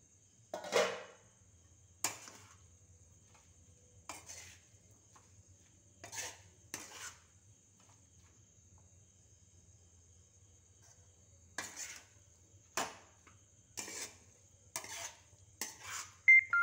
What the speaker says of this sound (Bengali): ভেজে রাখা বড়িগুলোও দিয়ে দিলাম। দিয়ে আমি ভালো করে মিশিয়ে নিলে